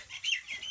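Myna birds chirp at home in a quick run of short, bright calls lasting under a second, close by and fairly quiet.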